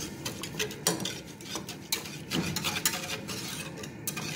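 Leche flan mixture stirred in a pot, a quiet, steady scraping and swishing of a utensil against the metal with faint ticks, close by and without speech.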